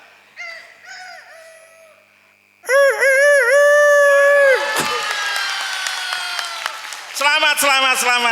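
A person imitates a rooster crowing, giving loud, drawn-out, wavering calls close to the microphone in a group storytelling session, with a quieter cry before and a final burst at the end.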